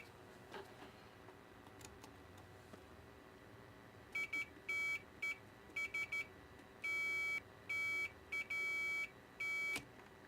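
A multimeter in continuity mode sounds a run of sharp, high electronic beeps, short ones and a few longer held tones, each start and stop following its probe contacts during an overdrive amplifier build; quiet room otherwise.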